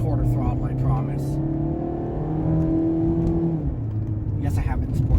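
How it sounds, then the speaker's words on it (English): A FIAT 500 in sport mode accelerates at quarter throttle, its engine note rising steadily in pitch and then easing off, heard from inside the car with a person talking over it. "This car really is fantastic. A 0 to 25 is pretty quick. That's a quarter throttle"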